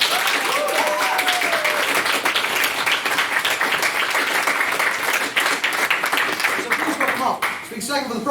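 Audience applause in a debating chamber follows a maiden speech in a feminism debate, with dense, steady clapping that fills the room for about seven seconds before tapering off near the end.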